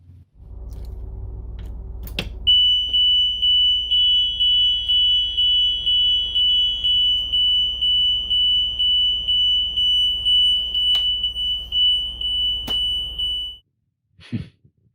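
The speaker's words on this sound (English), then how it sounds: "that annoying sound was brought to you by the jacks down beeper on our Tiffin Red" The jacks-down warning beeper on a Tiffin Red motorhome built on a Freightliner chassis sounds a loud, repeated electronic tone in regular pulses for about eleven seconds over a low engine rumble, with a few sharp clicks, then stops.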